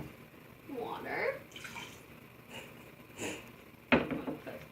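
Water poured into a bowl while making slime, a bubbling, splashing trickle that comes in a few short bursts and ends with a sharper splash.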